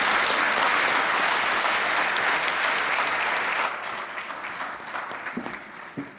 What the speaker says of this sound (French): Et je pense que nous pouvons l'applaudir encore.